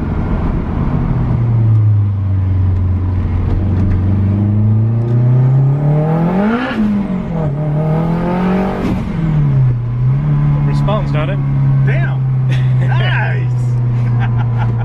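Turbocharged hatchback engine revving on a drive with a cold engine, a steady low drone that rises and swells in pitch mid-clip, then settles, with people talking over it.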